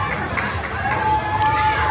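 Wrestling arena crowd reacting unhappily as a wrestler enters the ring, a dense continuous roar of many voices with scattered shouts, steady and loud throughout.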